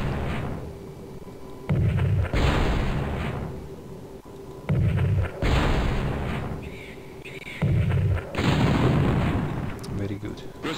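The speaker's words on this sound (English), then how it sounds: "Let's use the artillery. Destroy them. Excellent shot." Artillery fire in the Spellcross strategy video game: three heavy booming blasts spaced a few seconds apart, each with a rumbling tail, loud and close with game voices in between.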